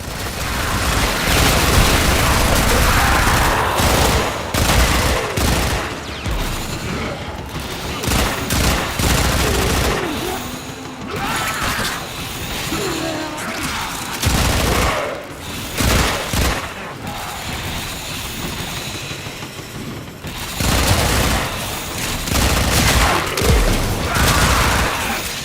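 Dense, continuous gunfire and explosions in the sci-fi video game Warframe, rapid bursts layered with booms, loud and sustained throughout with brief dips, while game dialogue speaks over it.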